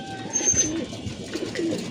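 Pigeons, including female birds, coo softly nearby, low throaty calls repeating over light background noise.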